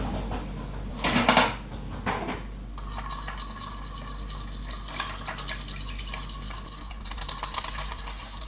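Rummaging through a kitchen cupboard for a whisk, with dishes, pots and utensils clattering and clinking close by, a sharp burst of rattling near the start followed by steady shuffling and knocking of kitchenware.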